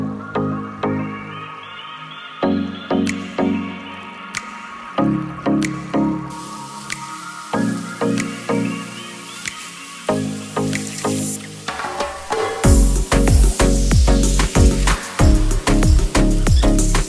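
Shower water drips and splashes in bursts with short pauses between them, then pours down loudly in a steady run of splatters near the end.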